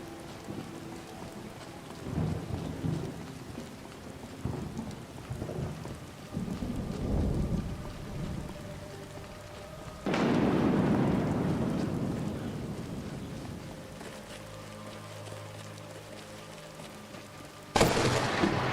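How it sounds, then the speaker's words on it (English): A thunderstorm with rain in the video game Skyrim VR, steady rainfall throughout, a loud rolling thunderclap partway through, and a sharp crack near the end. "Running through Skyrim in the middle of a thunderstorm."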